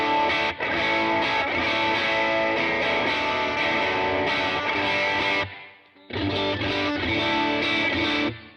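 An electric guitar runs through a King of Tone overdrive pedal alone, playing loud, moderately crunchy chords and notes with a brief pause near the middle before the playing resumes, with no talking.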